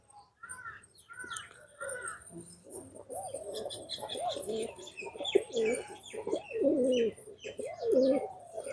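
Domestic pigeons kept at a house coo repeatedly nearby, a series of rolling, throaty coos in the second half, with a few higher chirps from other birds early on.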